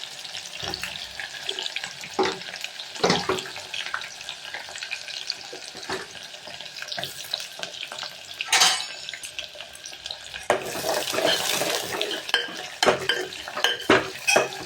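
Chopped onions sizzling and sautéing in a pan, with a spatula scraping and clattering against the metal at irregular moments, close and fairly loud.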